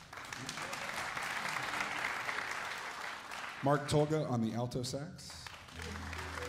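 Applause from a jazz orchestra concert audience at a music festival, a broad clapping wash that carries on while an announcer's voice comes in over it and continues to the end.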